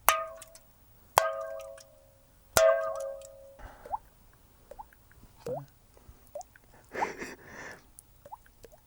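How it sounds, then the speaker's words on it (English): Cans tapped by hand, three sharp metallic clangs with ringing tails early on, followed by softer scattered clicks and taps, close and quiet between hits. "You get a really good sound out of cans actually"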